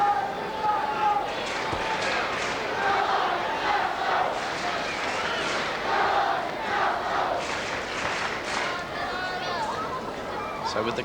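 A 1981 football crowd at a Newcastle KB United versus Brisbane City match roars and jeers in protest over an offside decision, a broad rising and falling wave of distant voices under a commentator's talk.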